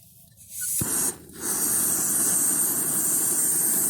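A BRS 3000 gas stove on a new cylinder, used for a windshield test, lights with one sharp click. A loud, steady burner roar and hiss then carries on alone.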